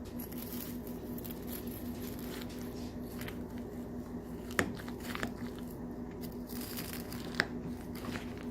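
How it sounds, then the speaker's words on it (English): A fork or bite goes into a tuna casserole with a crunchy top, giving a couple of sharp crisp crunches over a quiet, muffled background of faint rustling. "I want you guys to hear this crunch when we go in"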